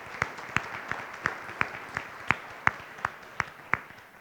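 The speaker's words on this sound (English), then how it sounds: "Give yourselves a round of applause." Community audience at a public library talk clapping in a slow, thin, evenly spaced round, the separate sharp claps standing out over a soft background murmur.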